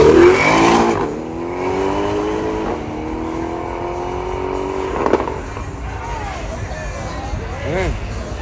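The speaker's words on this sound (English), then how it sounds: "Yeah, the backfire." A drag racing car at the Yello Belly Dragstrip revs loudly and pulls away, its engine note falling, with a single sharp backfire pop midway and voices in the background.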